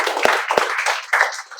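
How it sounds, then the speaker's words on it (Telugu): A classroom of students clapping in a spoken English class, a short burst of a few sharp claps close by, quickly fading. "క్లాప్స్."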